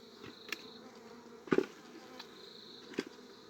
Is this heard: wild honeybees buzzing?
yes